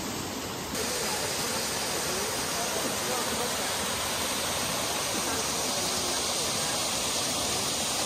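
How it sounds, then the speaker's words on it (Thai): Lan Sadet waterfall in Thailand, a steady dense roar of falling water that fills the whole stretch at a constant loud level, with no voices. "อันนี้คือน้ำตกลานเสด็จ"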